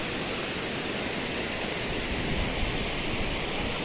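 Dhurnali waterfall near Otur in Junnar taluka, a steady loud roar of falling water filling the whole clip without pause or voices.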